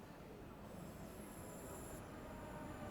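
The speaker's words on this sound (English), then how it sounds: "So here's a Lizzie line train." An Elizabeth line train passes in the Train Sim World 6 railway simulator, a faint steady rumble of wheels on track with a thin high squeal appearing partway through, with no talking.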